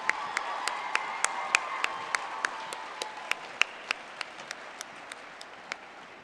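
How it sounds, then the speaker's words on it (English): Sparse, evenly spaced hand claps ring out for pageant boys and their escorts, a few distinct sharp claps over a quiet hall with a faint tone underneath. "Let's give all of the boys and their escorts one huge round of applause."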